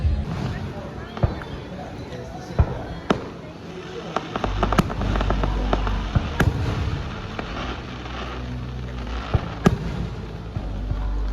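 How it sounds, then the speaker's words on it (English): Fireworks burst at Dollywood's nighttime spectacular, sharp pops and crackles scattered across the sky. The booms grow heavier partway through over a low rumble, and a crowd murmurs and people talk underneath. "we are going to see Dollywood's Nighttime Spectacular filled with drones and fireworks"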